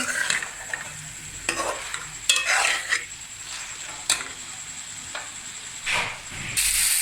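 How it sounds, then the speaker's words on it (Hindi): A spoon stirs okra for bhindi masala in a hot pan, scraping strokes repeating over a steady sizzle of frying, with a few louder clatters along the way. "अब मैं इसको आस्ता से चम्मच चलाऊंगी।"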